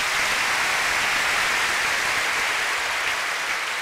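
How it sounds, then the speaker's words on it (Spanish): Church congregation applauding, a dense, steady wash of clapping that stays loud and continuous throughout with no voices standing out. "Denle un buen aplauso al Señor."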